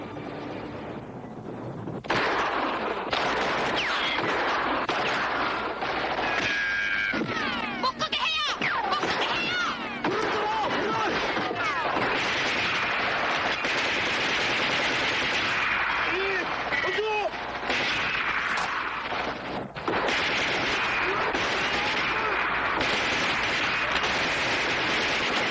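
Korean War film battle scene with heavy artillery and gunfire, naval bombardment, dense continuous blasts and rumbling explosions throughout, loud and chaotic, with shouted voices mixed in under the barrage.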